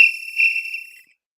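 A single shrill whistle blast, loud and close, held for about a second before cutting off, during high school basketball coverage.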